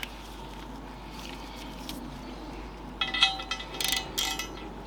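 A torque wrench with an 11 mm extension socket tightens a high-pressure valve on a wheel rim to a low 6 Nm setting. A quiet mechanical hum comes first, then a short burst of faint metallic ratchet clicks near the end.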